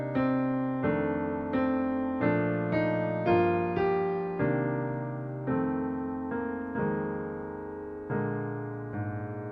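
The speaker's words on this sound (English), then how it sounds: "the next 4 measures of O Come All Ye Faithful sound like this." Solo jazz piano plays O Come All Ye Faithful as a slow ballad, rich sustained chords struck one after another at an even, unhurried pace, each ringing out and fading before the next.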